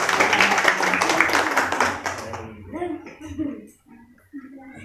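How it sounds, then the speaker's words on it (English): Audience applause breaking out for the host of a morning class debate, a dense wash of clapping for about two and a half seconds that then stops abruptly, followed by a voice speaking. "A round of applause"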